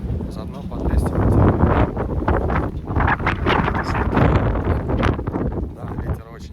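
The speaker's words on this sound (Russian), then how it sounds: "ветер очень сильный." Strong wind batters the microphone outdoors in seaside Yeysk in April, a steady, loud, rumbling buffet with gusts that lasts throughout. A muffled murmur sits underneath.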